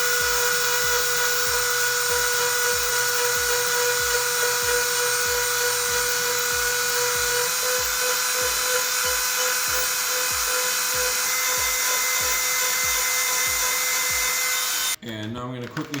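Rotary tool fitted with carving, sanding and grinding tips working a wooden Betsy Ross flag, a steady high-pitched whine running loud and continuous for most of the span before cutting off abruptly near the end.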